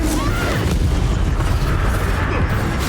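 A Bombarda spell explodes during combat in Hogwarts Legacy, a loud, dense rumbling boom with crackling debris that fills the short moment, with faint voices underneath.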